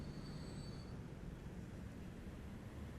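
A modern passenger train rolls along in the transport simulation game Transport Fever 2, giving a steady, even rumble with a thin high whine early on, heard alone without talk.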